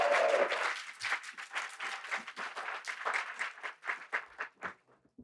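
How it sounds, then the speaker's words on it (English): Audience applause at a community awards ceremony in Wisconsin, a dense burst of many hands clapping that gradually thins out and fades over about five seconds. "I need everybody to clap a little bit louder than that."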